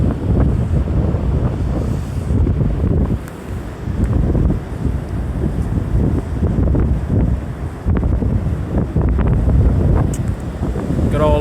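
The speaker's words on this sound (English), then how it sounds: "Got all those waves coming in." Winter Atlantic Ocean waves rolling in at the beach in Atlantic City, New Jersey, with a heavy, continuous roar of surf and strong wind buffeting the microphone throughout.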